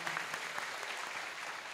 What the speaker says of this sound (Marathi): जरा टाळी वाजवा